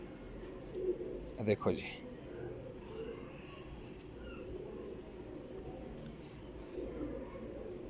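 Purebred White King pigeons, a Sundra pair, coo in a low, soft murmur that runs steadily beneath someone speaking nearby.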